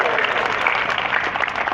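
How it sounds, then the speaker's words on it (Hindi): Loud, dense clapping from an audience at a Hindu spiritual festival gathering, Bramhgyan Jagni Mahotsav at Anandpuri Dham, Jatiyapur, sustained evenly for a couple of seconds. "जोरदार ताली हो जाए"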